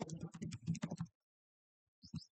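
Someone types an email address on a computer keyboard: a quick run of soft, close keystrokes, a short pause, then two more taps, all fairly quiet.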